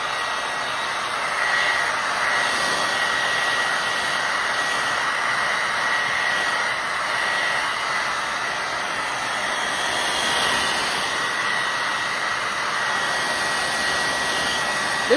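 Hair dryer blowing steadily on decoupage paper laid over a book stack, a close, continuous whooshing hum with no talk over it.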